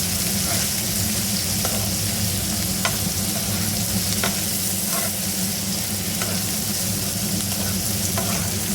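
Bitter gourd frying with turmeric and salt, a loud continuous sizzle with repeated light scraping clicks as it is mixed in the pan.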